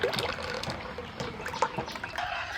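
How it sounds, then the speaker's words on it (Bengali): A curd and milk mixture is poured into more milk for bamboo sweet curd, giving soft trickling and splashing with small drips, close and fairly quiet. "এবার এই বাকি দুধের মধ্যে এটা ঢেলে দিচ্ছি"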